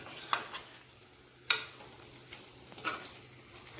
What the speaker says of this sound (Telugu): మళ్ళీ ఒకసారి కలుపుకుంటున్నాను.